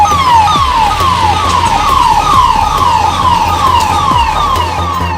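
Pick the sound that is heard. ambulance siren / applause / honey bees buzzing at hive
ambulance siren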